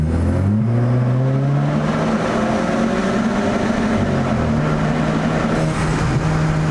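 A tuned Audi A4 B engine revs to 3,000 RPM in a loud, steady rising drone that holds close and continuous, with no talking.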